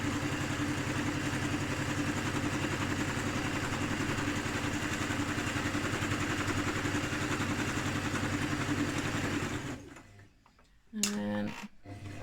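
A sewing machine stitches along the bottom edge of a drawstring bag, humming steadily and evenly for about ten seconds before it stops, followed by a brief clatter.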